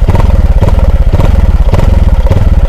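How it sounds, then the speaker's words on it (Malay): A SYM ADX TG 400cc scooter engine idles loudly up close, a steady throbbing putter with a rhythmic mechanical clatter and no other sounds. "So inilah bunyi SYM ADX TG 400cc"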